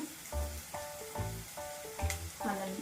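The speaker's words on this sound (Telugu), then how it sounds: "అల్లం వెల్లుల్లి పేస్ట్ పచ్చివాసన పోయే వరకు వేయించుకున్నాము." Ginger garlic paste and turmeric fry in a hot pan for a home-style mutton curry, a steady close sizzle with repeated stirring bursts about every second.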